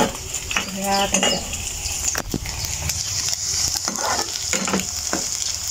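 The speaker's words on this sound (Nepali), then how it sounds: "ल मैले ससेस फ्राई गरेँ" Sausages fry in oil with a steady, close sizzle, punctuated by clinks and scrapes of a utensil stirring in the pan.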